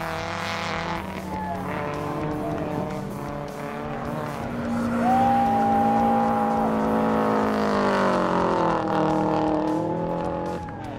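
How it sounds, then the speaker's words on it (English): An all-wheel drive Subaru does a four-wheel burnout down a race course, engine revving hard and steadily with rising and falling pitch and tire squeal layered over the loud, continuous roar. "an all-wheel drive Subaru doing a four-wheel burnout the entire length of the course"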